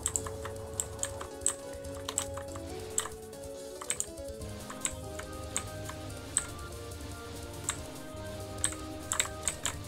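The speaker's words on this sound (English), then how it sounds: "So we have a very clicky keyboard." Keys clack rapidly and unevenly on a very clicky computer keyboard, close and fairly quiet, with sharp individual strokes over a faint background tone.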